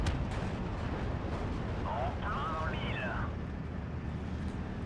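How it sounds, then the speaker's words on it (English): Concentrated artillery fire rumbles in the Steel Division 2 war strategy game, a dense, continuous roar of distant blasts with no clear single shots. "concentrated artillery just pushing these guys off."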